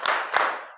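A class of students claps in unison, giving two quick, sharp claps close by in a classroom.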